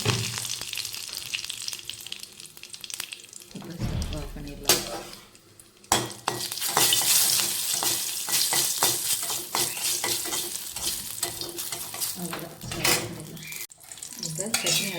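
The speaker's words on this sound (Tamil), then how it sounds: "கொஞ்சமாக கருவேப்பு போட்டால ஒரு குட்டி வரமிளகா அவ்வளோதான் தாளிச்சு போட்டோம்னா நமக்கு சட்னி ரெடி" Curry leaves and a small dried red chili sizzle in hot oil as a tempering for coconut chutney, with loud crackling, metal spoon scraping and clattering against the pan throughout, close and busy.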